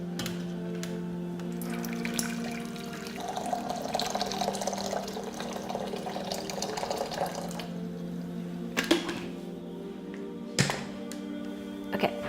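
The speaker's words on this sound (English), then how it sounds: "So I've got my hot boiling water, which I'll add to the pot." Boiling water pours steadily into a pot with a gurgling, splashing rush, followed by a couple of dull thunks of metal being set down.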